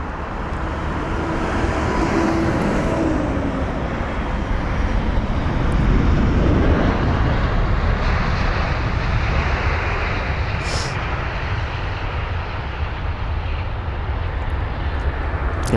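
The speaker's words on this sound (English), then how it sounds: "We've got the BA 777 up next." British Airways Boeing 777 on arrival at London Heathrow from Atlanta, a loud sustained jet engine roar that swells and slowly fades as the aircraft passes, with no voices.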